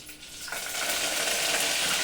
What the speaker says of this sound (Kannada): ಸಾಸಿವೆ ಕರಿನ ಸೊಪ್ಪು ಅದು ಈರುಳ್ಳಿ ಹಾಕೊಂತ ಇದ್ದೆ ಚೆನ್ನಾಗಿ ಫ್ರೈ ಮಾಡ್ಕೊಬೇಕು